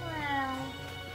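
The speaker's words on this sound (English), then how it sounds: "The random purloin that says meow." Purrloin, a cat-like creature in the video game Pokémon Shield, gives a short gliding meow, with a person talking faintly underneath.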